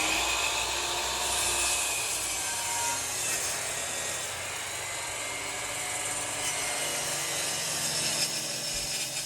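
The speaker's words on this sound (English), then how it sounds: "And then cut the top piece using this miter saw." A miter saw cuts through a wooden rafter with a steady high whine that runs on continuously at moderate volume, with no talking.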